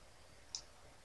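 A single quiet computer mouse click, made while masking an image in Photoshop, sounds once against a faint, near-silent background.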